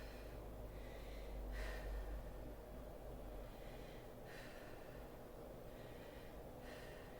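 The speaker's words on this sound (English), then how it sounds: "we're resting and breathing." Heavy, rhythmic breathing with sharp gasps and snorts from someone resting between sets of an upper-body strength workout such as floor press; steady and fairly quiet, with no talking.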